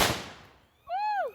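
A firecracker goes off at the Ayyasagara Veerabhadra Swamy temple with one sharp, nearby bang that rings out and fades, followed by a short shout from a voice.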